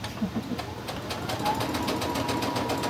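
A sewing machine stitches a crazy crumb quilt block, a close, steady rapid mechanical chatter running through the whole short stretch.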